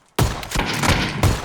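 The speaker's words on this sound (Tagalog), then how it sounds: "Shotgun yan to." Shotgun blasts in a video game, two sharp heavy shots about a second apart with a dense rumble between them, loud and close.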